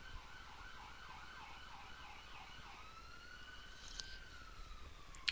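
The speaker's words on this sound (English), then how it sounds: "You can hear the fire truck or ambulance going by my house there." A wailing emergency siren passes at a distance, rising and falling in quick cycles before switching to a slower sweeping wail, faint against steady background noise.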